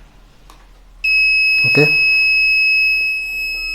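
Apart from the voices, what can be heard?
buzzer triggered by RFID card on ESP32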